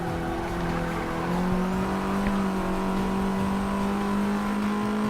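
Race car engine pulling hard in 5th gear on a fast lap with a high-torque, low-redline setup, a loud steady drone climbing slowly in pitch throughout, close and continuous with no talk.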